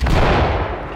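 A flashbang grenade detonates in the Ready or Not tactical shooter during a raid on a fortified compound, a single loud, close blast that fills the moment and quickly decays.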